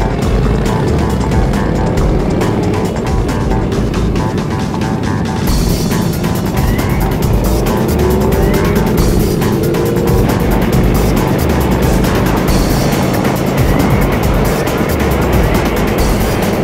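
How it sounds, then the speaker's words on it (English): Motorcycles, a mix of Harleys and Indians, rumble along together on a group biker safety ride, with a loud, continuous engine drone and wind noise that holds steady throughout. "So here we are on a motorcycle safety ride."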